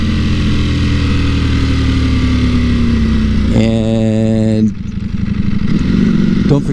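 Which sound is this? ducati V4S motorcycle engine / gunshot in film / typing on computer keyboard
ducati V4S motorcycle engine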